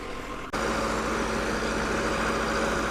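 A farm engine running a manure pump suddenly revs up from a lower idle into a loud, steady, continuous roar that holds to the end.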